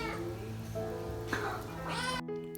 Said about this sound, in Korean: 야옹거리면서 애교를 부렸습니다.